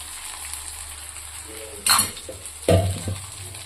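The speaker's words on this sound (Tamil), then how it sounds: "இதை எடுத்து தயிரில் கொட்டிக்கலாம்." Cooked rice tipped from a pot into curd, heard as a soft sliding scrape and a couple of dull thuds against metal over a low kitchen background hum, with no one speaking.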